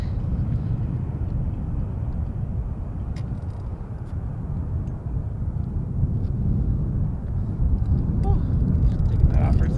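An Emirates airliner rumbles at Montréal-Trudeau Airport, a steady broad low roar from a distance with light wind buffeting, continuous and fairly even throughout with no clear speech.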